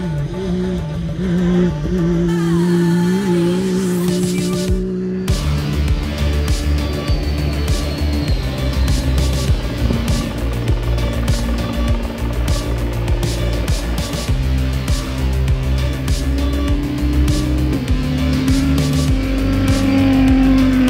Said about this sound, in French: C'est très déroutant en fait d'entendre cette voiture passer là, par contre ça avoine sévère